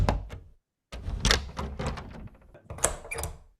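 A door shutting, a stock sound effect cut into a trailer edit: a short run of solid wooden thunks and knocks, close and fairly loud, with a brief gap of silence before the heavier impacts.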